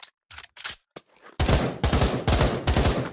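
Gun firing in burst mode in the VR game Pavlov Shack: a few scattered sharp shots, then four loud, evenly spaced bursts of rapid reports close up.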